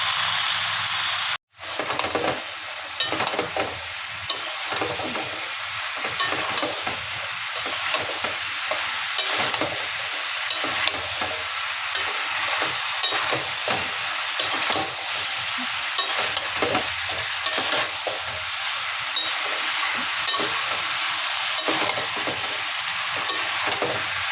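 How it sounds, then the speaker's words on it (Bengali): Cauliflower and spices stir-fry in a pan with a continuous close sizzle and hiss. Regular spatula scrapes recur throughout after a brief cut near the start. "এর মধ্যে ফুলকপিটাও দিয়ে দিলাম, ভালো করে কষিয়ে নেবো সব।"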